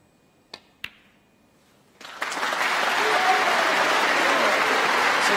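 Snooker crowd at the 2019 UK Championship bursts into sustained loud applause after Ding Junhui's title-clinching century break, following a couple of sharp clicks and a quiet pause.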